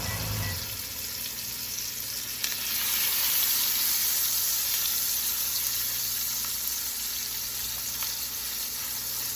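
A T-bone steak fries in a pan on a stovetop, a steady close hiss and sizzle running throughout with a brief louder surge early on.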